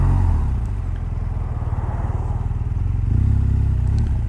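A 2018 BMW R1200R motorcycle filtering through traffic, its steady boxer engine drone loud and close throughout with a slight swell near the end, alongside road and wind noise.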